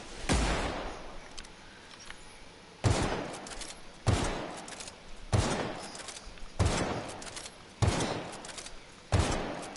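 Unsuppressed hunting rifle shots in the Outer Worlds video game ring out as six loud, sharp bangs spaced about a second or more apart, each trailing off into a short echoing tail.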